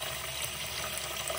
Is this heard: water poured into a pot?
yes